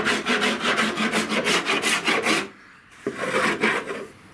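A rasp grater scrapes car body filler on a Hyundai Elantra wagon under repair outdoors, in quick, even, loud strokes that stop for a moment and then start again.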